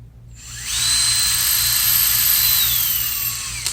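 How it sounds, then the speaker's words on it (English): A power drill spins up and runs steadily at high speed with a bright whine, boring a small 5/64 pilot hole into a guitar body for string ferrules, close and loud for about three seconds before winding down. "when you're drilling, smaller bit, faster speed, larger bit, slower speed is the rule of thumb"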